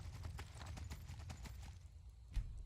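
Hoofbeats of a horse galloping in Skyrim, a steady rapid clip-clop running throughout over a low game ambience, with a louder thud near the end.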